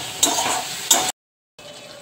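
Pointed gourd pieces hit hot oil and fried spice masala in a pan, giving two loud sizzling bursts with scraping stirring, then a sudden full silence before a quieter, steady sizzle returns.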